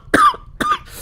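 Two harsh, close coughs a moment apart, the second slightly shorter, with a faint breathy trail afterward.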